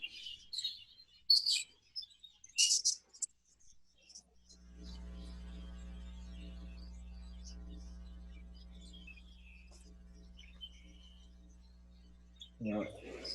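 Budgies chirp and twitter in a breeding aviary, bright bursts clustered in the first few seconds, then a steady low electrical hum takes over with faint scattered chirps above it.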